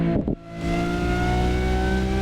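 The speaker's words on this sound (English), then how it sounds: "There is something about the V12 sound" A Lamborghini V12 engine in the racing game No Hesi revs sharply, then settles into a loud, steady, sustained drone with strong harmonic tones and no talk over it.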